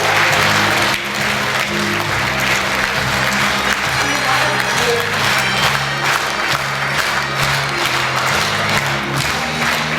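Loud, steady applause from a large audience fills a hall at a Khakas song award ceremony held at a republic philharmonic, continuing unbroken for about ten seconds with a dense, even roar of clapping.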